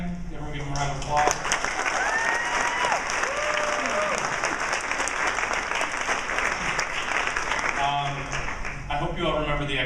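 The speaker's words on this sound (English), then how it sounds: "Everyone give them a round of applause" Audience applause for the speakers at a gender forum, steady dense clapping filling the room for nearly ten seconds with voices and cheers mixed underneath.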